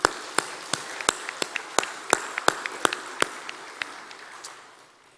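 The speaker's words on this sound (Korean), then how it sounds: "우리 하나님께 영광의 박수 한번 드리겠습니다" A church congregation at a Sunday morning service claps in unison to give glory to God, a series of sharp, evenly spaced claps ringing in a reverberant sanctuary before fading out.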